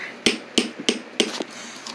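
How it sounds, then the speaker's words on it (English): Hammer driving nails, four sharp, evenly spaced close strikes about a third of a second apart, followed by a couple of lighter taps, with no speech. "I just need my hammer real quick."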